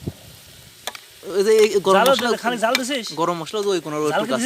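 Oil sizzles in a pan while quail roast cooks, a soft hiss that runs under loud, animated talk and is quiet near the start before the voices come in.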